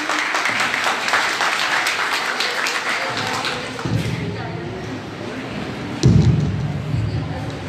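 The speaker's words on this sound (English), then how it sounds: "Have a round of applause for him." An audience at a college Defence Day celebration applauds Mr. Shazi, with loud clapping at first that thins out midway, accompanied by a few thumps as he moves to the stage.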